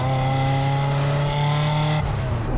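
A Ferrari 355 Spider's engine revs hard and loud, a steady rising harmonic drone held close up that drops sharply near the end as the revs fall away, with no talking over it.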